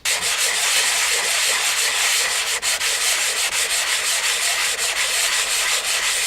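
P120 sandpaper rubs rust off a metal surface in a continuous, loud, close scratching hiss with barely any breaks; no speech.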